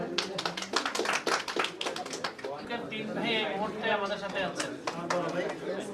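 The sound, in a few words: applause at a shop opening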